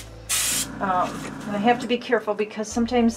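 A spray can hisses paint onto a cup-pour galaxy painting in one loud burst near the start, followed by someone talking close by.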